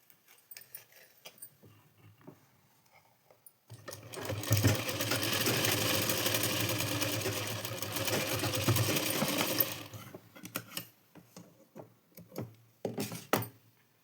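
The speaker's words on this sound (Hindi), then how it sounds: "तो मैं उस पर तुरपाई करूँगी, तो इसीलिए कच्ची सिलाई लगाऊंगी" Sewing machine running a basting stitch along a blouse seam, a loud, fast rhythmic mechanical chatter lasting about six seconds, framed by quiet handling clicks and light taps of fabric and parts before and after.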